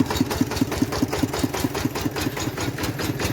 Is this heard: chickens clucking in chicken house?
no